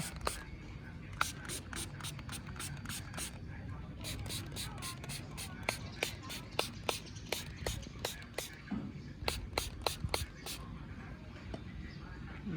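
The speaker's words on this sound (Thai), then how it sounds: "ก็จะลองฉีดตรงนี้ดูนะ ฉีดอาซีนะ ฉีดดูซิ" CRC Bio Degreaser is sprayed onto a bare engine part in rapid runs of short, sharp hissing squirts, close and fairly loud over a low rumbling background.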